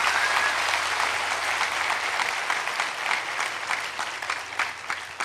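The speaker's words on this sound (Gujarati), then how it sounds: "આ 2 જણ માટે જોરદાર તાળીઓ પાડો" An audience at a Gujarati motivational talk breaks into sustained, loud applause, dense clapping filling the room steadily for several seconds before thinning slightly at the end.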